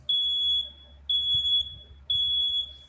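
A smoke alarm in a home kitchen beeps three times at a steady one-second pace, each shrill tone held about half a second, fairly close with a quiet room behind it.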